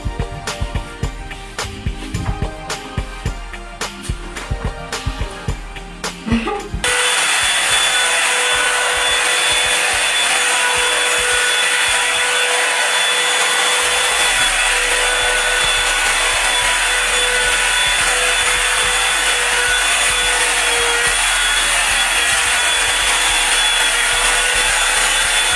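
A handheld hair blow dryer roars loudly and steadily, drying freshly relaxed hair, starting after a few seconds of clattering handling sounds and continuing unbroken at close range.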